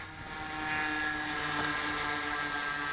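An Air Hogs RC Batwing toy plane taxis over rocks in a parking lot, its small electric propeller motor giving a steady, fairly loud whine with a buzzing drone throughout.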